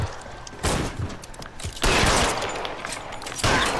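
Gunfire in the video game L.A. Noire: close, loud volleys of rapid shots in three separate bursts, each with a booming tail, and no talk over them.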